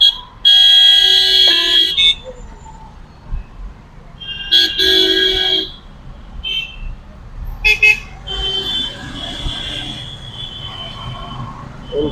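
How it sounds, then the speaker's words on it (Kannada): Car horns honk in road traffic, several loud blasts of varying length coming in bursts, one long sustained toot toward the end, over a steady engine and road rumble. "ಅಷ್ಟೊತ್ತಿಗೆ ಹಾರ್ನ್ ಅಂತ ಹಾರ್ನ್ ಹೊಡಿತಾ ಇದ್ದಾರೆ"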